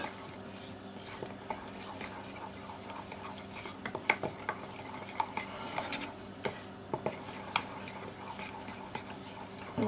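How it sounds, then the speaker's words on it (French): A utensil stirs powdered sugar and water into icing, giving soft, close scraping with scattered light clinks against the bowl and no talk. "je vais mélanger mon sucre en poudre avec un petit peu d'eau"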